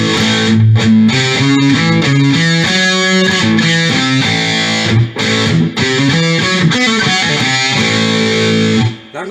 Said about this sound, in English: You heard the compressor and the distortion together. Now we'll turn them on. Here's my distorted sound.